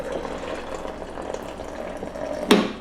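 Water is poured into a protein shaker bottle for mixing powder, a steady close-up trickle and splash with a brief louder gush near the end.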